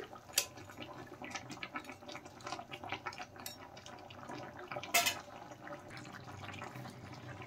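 Fried puti fish slid into a simmering potato and radish curry and stirred through the gravy in a pot: soft, quiet liquid sloshing with a few sharp utensil clinks against the pot.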